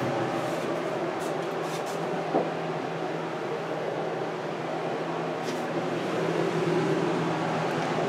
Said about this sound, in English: Dehumidifier running.